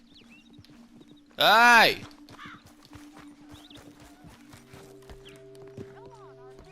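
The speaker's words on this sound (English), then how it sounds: "Agitated horses need to be calm before you approach them." A horse in Red Dead Redemption 2 gives one loud, close whinny, with a voice shouting just before it, then softer hoof clops and quiet game ambience follow.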